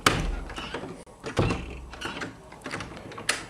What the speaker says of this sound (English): I don't know how to work a door.